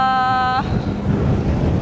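Wind blows outdoors at an amusement park on Phu Quoc island. A short tonal hum fades into a rumbling, buffeting wind roar against the microphone.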